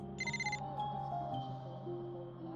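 A phone rings in the Wuthering Waves video game, a brief bright electronic trill of pulsing tones near the start, fairly quiet and followed by a soft lingering ambient hum.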